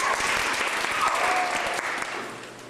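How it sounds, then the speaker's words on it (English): Audience applause fills the room at a community event in Toronto, steady dense clapping at close range that gradually thins and fades toward the end. "Please give Alessia Grecky a round of applause."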